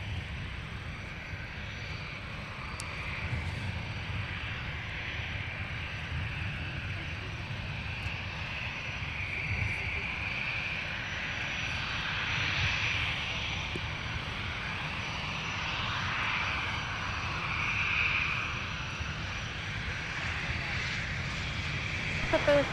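Steady, distant aircraft engine drone at MSP airport as planes prepare to taxi, a continuous hum that swells slightly midway, with faint voices now and then.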